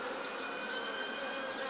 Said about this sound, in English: All the flying bees are going to come out here.